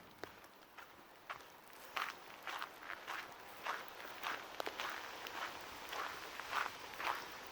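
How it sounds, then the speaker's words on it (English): Footsteps along a hemlock forest trail in Golden Ears Park in the rain, a steady series of soft crunching steps at close range over a hiss of rainfall, with no talking. "here we are walking through the hemlock forest"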